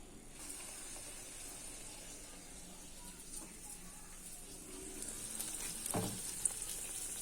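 Luchi, puffed flatbread, deep-frying in hot oil, giving a faint steady sizzle and hiss with occasional stirring clinks, close by and fairly quiet.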